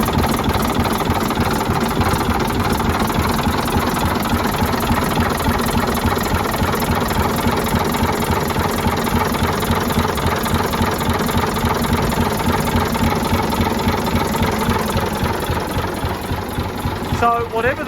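A Leyland Atlantean bus's diesel engine runs at a steady idle, a loud, close, continuous rumble with an even throbbing beat that holds for the whole stretch.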